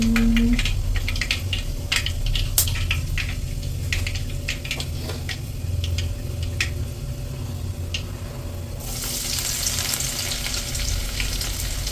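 Garlic fries in hot oil for a Kerala biryani, giving a dense, loud, steady sizzle with crackling pops throughout that brightens near the end as it intensifies.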